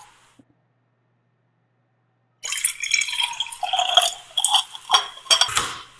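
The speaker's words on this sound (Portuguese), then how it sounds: "Ele vai misturar essa limalha na água, né?" Iron filings are stirred into water, heard after a silent start as quick clinking, sloshing and dripping against glass for several seconds, with no talking.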